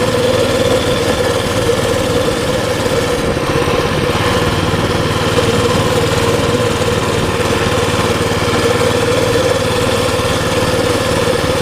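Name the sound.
Baja Warrior mini bike engine running for a front lawn ride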